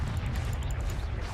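A Confringo fire spell cast in the Hogwarts Legacy video game gives a loud, dense, continuous rumbling blast with heavy low-end roar, with no talking over it.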